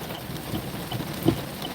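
Heavy rain pours steadily outside a vehicle on a night drive, a dense continuous hiss with a faint low rumble of thunder underneath and one brief louder knock near the end.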